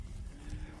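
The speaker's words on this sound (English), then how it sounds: "Happy cows." Cows lowing in a pasture after being moved, a low mooing call heard fairly close, with no talking.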